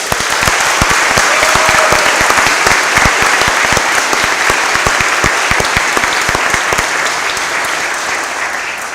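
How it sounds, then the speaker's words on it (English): Sustained audience applause at a school honors day ceremony, loud and close, with many distinct individual claps over a dense crowd wash that fades slightly toward the end. "Join me in giving her a round of applause."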